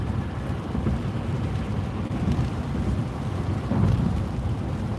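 Rain heard from inside a truck while driving in traffic: steady, dense rumbling wash of rainfall and road noise, loud and continuous, with no voices.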